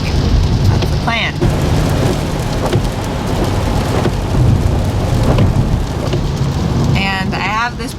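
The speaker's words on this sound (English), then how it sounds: "It is raining today, even harder than it was yesterday" Heavy rain pours down steadily during a rainstorm at a barn, a dense close wash of drumming drops with a low rumble beneath and brief voices in the background.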